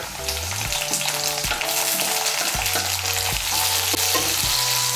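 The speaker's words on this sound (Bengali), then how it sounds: "টমেটো কুচিটাকেও মিশিয়ে নেব তেলের সঙ্গে, মিশিয়ে নিয়ে একটু ভেজে নেব" Chopped tomato fries in hot oil over previously browned onions in a pan for Bengali Katla fish curry, a steady loud sizzle broken by repeated scraping stirs, with no one speaking.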